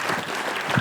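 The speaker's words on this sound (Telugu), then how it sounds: "అందరూ అందుకొరకు గట్టిగా చప్పట్లు కొట్టండి" An audience at a village chess distribution event in Vellulla claps, a brief burst of dense, steady applause from a gathered crowd.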